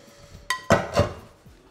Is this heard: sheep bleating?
no